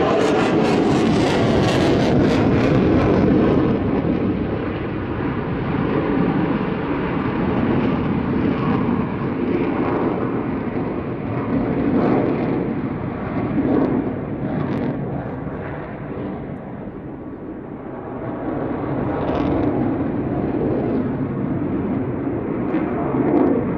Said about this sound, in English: Now slowing the aircraft, putting it to what's known as high alpha, a high angle of attack, very nose high attitude for the slow speed planes.